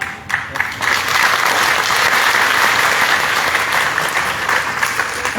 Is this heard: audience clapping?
yes